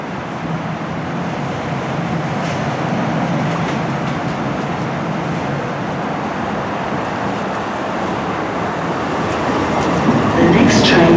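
A Tyne and Wear Metro train runs through a station, a heavy continuous rumble of wheels and rolling stock that grows louder toward the end, with faint voices in the background.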